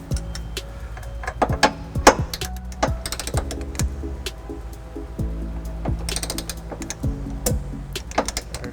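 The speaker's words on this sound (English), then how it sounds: "Putting on a 5-inch extension, that way I can get my torque wrench below the hitch here." Torque wrench on an extension tightening trailer hitch bolts under a 2006 Ford Escape, a series of close, sharp ratcheting clicks in uneven bursts with brief pauses, no talking.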